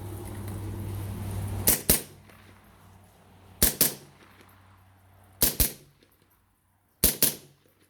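A GBD-22 blaster fires at a range in four quick double taps, each pair of sharp snaps spaced a couple of seconds apart over a low steady hum.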